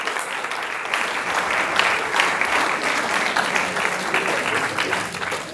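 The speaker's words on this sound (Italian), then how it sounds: "Forse un applauso" Steady audience applause fills a hall, a dense wash of many hands clapping at an even level throughout, with no voices breaking through.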